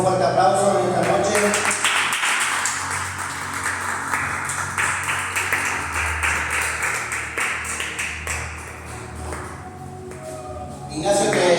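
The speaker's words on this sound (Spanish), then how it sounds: "Recibimos la palabra de Dios con un fuerte aplauso en esta noche." A church congregation claps and applauds steadily for several seconds, a dense patter of hands that gradually thins, with a voice at the start and end.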